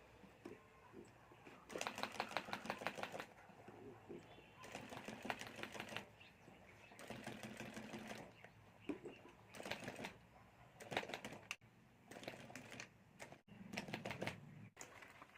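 A sewing machine stitches the border of a fabric clutch bag in repeated bursts of rapid, fine rattling, each a second or two long with short pauses between, fairly close and quiet.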